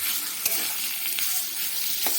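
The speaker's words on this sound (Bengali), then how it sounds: "এবারে আস্তে আস্তে এটা ভাজা ভাজা করব" Mashed figs fry in a little mustard oil in a pan, a steady close sizzle broken by several scraping strokes of a spatula stirring the thick mash.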